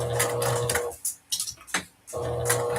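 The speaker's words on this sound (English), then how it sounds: "We're going to top stitch this side." A sewing machine top stitches a dress seam, its needle running in a rapid, steady mechanical chatter that stops briefly mid-way, with a few short bursts, then resumes at full speed.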